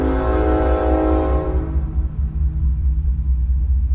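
A train horn blasts loud and close over heavy rumbling rail noise as the train passes, the long sustained honk fading after about a second and a half while the deep rolling rumble of the cars continues steadily.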